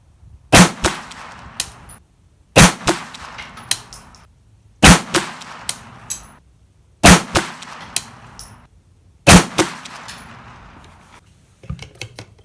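Sharp, loud gunshots from a PSA AKV 9mm carbine fitted with a red dot crack at a regular pace, roughly five main reports with short ringing tails and fainter clanks between.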